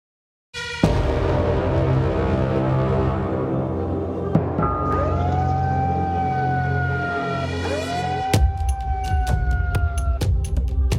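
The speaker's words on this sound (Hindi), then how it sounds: "खतरे का सायरन पूरे इलाके में गूंजा।" A loud wailing warning siren at a tunnel rescue site in Tapovan rises and falls continuously, with a second siren tone joining partway through and sharp clanks near the end.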